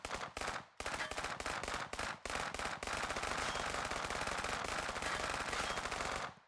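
Sustained automatic gunfire in VRChat, a gun fired in long rapid bursts with short gaps early on, then one unbroken loud stream before stopping abruptly.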